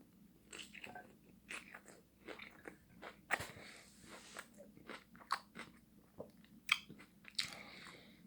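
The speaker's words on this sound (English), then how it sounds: "I'm eating a veggie taco right now." Someone is eating a veggie taco, with close, crunchy bites and wet chewing that come in an irregular run of crisp clicks and crackles and carry on alone throughout.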